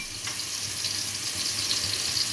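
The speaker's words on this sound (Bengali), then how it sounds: "আলুগুলোকে ভেজে রাখছি একটা কড়াতে" Potatoes frying in hot oil in a kadai, a steady close sizzle with a faint watery crackle running evenly throughout, no voices.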